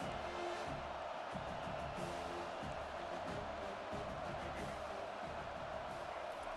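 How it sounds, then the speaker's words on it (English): A stadium crowd in the College Football 25 video game, USC versus Florida, gives off a steady, dense roar that stays loud and even throughout, with no clear peaks. "This crowd trying to make life miserable for this offense."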